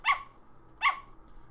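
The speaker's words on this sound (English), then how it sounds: "one of the barks whenever we do an attack" Two sharp dog barks from a video game sound effect, spaced about 0.7 seconds apart, close and clean against a quiet background.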